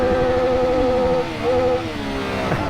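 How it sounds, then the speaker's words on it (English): Motorcycle engines rev at a Love Ride charity motorcycle gathering in Switzerland, rising and falling in loud, close bursts with a siren-like whine overlapping the engine roar. "Let's give them some revs."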